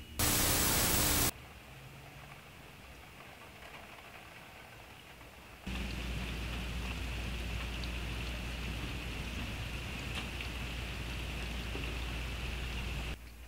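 Steady rain falls outside, a continuous hiss of drops that opens with a burst of loud static before settling, then thickens into a heavier, constant downpour for the rest.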